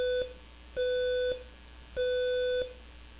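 Simulated buzzer in a Proteus circuit powered at 5 volts, giving three steady electronic beeps of roughly half a second each, with short gaps between them, clear and alone.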